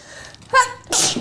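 A single loud, close sneeze, with a brief sharp intake followed by a bright, explosive burst.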